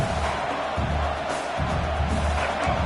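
Steady roar of a stadium crowd cheering in the College Football 26 video game, a loud broad swell with rising surges and no voices over it.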